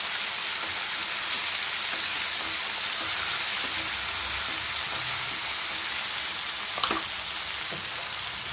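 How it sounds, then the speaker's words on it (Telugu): Curry of drumstick and tomato pieces with coarse salt bubbling steadily in a pan, a continuous soft hiss and sizzle with faint stirring taps and one brief louder clink near the end. "కళ్ళుప్పు వేస్తే బాగా ఉడుకుతాయి అన్నమాట మునక్కాయ ముక్కలు టమాటా ముక్కలు ఉడుగుతాయి"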